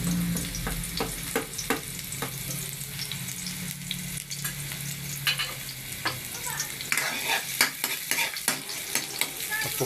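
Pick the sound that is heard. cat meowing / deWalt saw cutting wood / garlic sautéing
garlic sautéing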